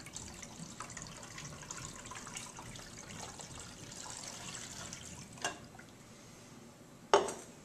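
Water poured from a jug into a hydrostatic balance instrument, a soft, steady trickle running for several seconds at low level, followed by a couple of sharp clinks near the end, with no voices.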